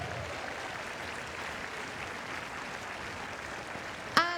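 A tennis crowd at a Djokovic–Gasquet match applauds steadily at moderate distance, a soft even patter that ends with a sharp, louder thud near the close.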